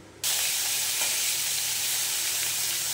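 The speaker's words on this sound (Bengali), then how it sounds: "এবারে দিয়ে দেবো পেঁয়াজ বাটা, রসুন আদা পেস্ট দিয়ে ভালো করে কষে নেব।" Onion paste with ginger-garlic paste sautéing in a hot pan, a loud steady sizzle that bursts in abruptly and holds continuously, close up.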